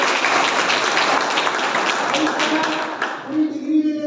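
Audience clapping at a college gathering, loud and sustained close applause that thins out near the end as a voice begins over it.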